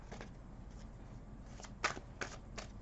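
Soft riffling of tarot cards being shuffled, quiet at first and then a few sharper flicking bursts near the end, close by with no talking.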